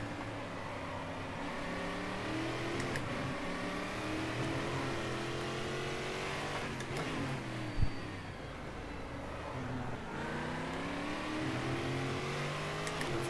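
A stock car engine in the racing video game GSC2013 at Velopark drones steadily over the whole stretch, its pitch rising and falling with revs, with a brief sharp knock near the middle.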